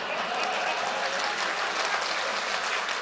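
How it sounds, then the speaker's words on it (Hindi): Audience applause at a Hindi-Urdu poetry mushaira, a dense steady patter of many hands clapping at once, held at an even, fairly loud level with no pause through the whole stretch. "2-3 तालियों का बहुत बहुत शुक्रगुजार हूं"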